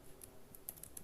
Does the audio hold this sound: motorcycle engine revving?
no